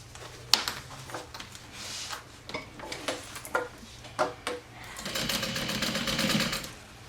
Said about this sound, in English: So I'm gonna go ahead and stitch at the top.